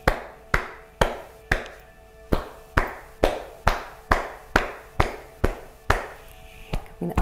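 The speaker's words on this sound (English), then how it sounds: "Cupping the inside of the elbows." Cupped hands patting the inside of the elbows in a qigong routine, a steady series of hollow, close slaps about twice per second, trailing off with lighter taps at the end.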